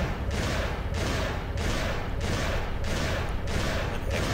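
Weapon fire in the video game Dino Crisis 2, played on hard mode: a steady run of loud, evenly spaced shots repeating about every half second over a dense, continuous rumble.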